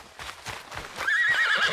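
A horse in Red Dead Redemption 2 whinnies loudly and sustained over a steady background of game ambience and soft hoof clatter, rising in the second half and holding to the end.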